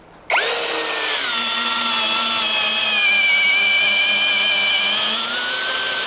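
An OSUKA OCD801 cordless drill starts abruptly and whines at high speed, its steady pitch dropping slightly as an 8 mm bit bites into 6 mm steel, loud and close.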